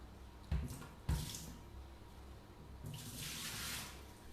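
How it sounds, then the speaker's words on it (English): Water is poured out of a Thermomix TM6 mixing bowl: two sharp splashing glugs early on, then a longer rushing pour into a sink, close by and moderately loud with no voices. "I'm just gonna pour out the water."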